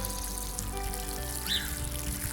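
Newly planted Cardinal Climber vine seedlings are watered outdoors in a garden, a faint, steady pour and trickle of water against low background noise.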